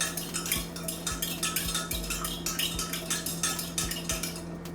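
A utensil stirs a gluten-free bread mixture in a bowl, scraping and clinking against the sides in a steady rhythm of repeated strokes, close up with no voices.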